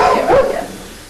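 A single short bark or yelp from a Boxer dog, close and fairly loud, lasting about a second.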